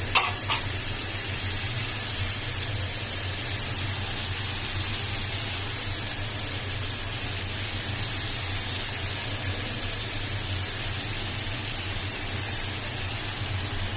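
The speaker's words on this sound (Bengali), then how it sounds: "আমার মশলাটা ভালোভাবে কষানো হয়ে গেছে, এবার লোটে মাছটা দিয়ে দেব।" Bombay duck fish sizzles in a well-fried spice paste for a bhuna curry, a dense, steady hiss that runs unbroken at fairly close range after a sharp opening clatter.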